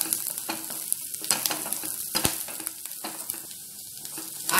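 Food for jeerige bajji sizzles and crackles steadily in a hot frying pan, with occasional stirring scrapes close by and no talking.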